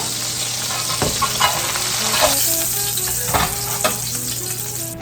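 Browned steak sears in a hot pan, a steady close sizzle broken by a few sharp utensil scrapes and taps as it is moved.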